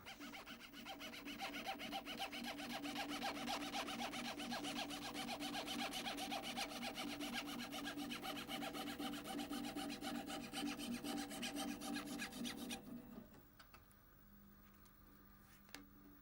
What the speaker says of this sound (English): Every piece that will be part of the marqueterie is cut separately with a saw,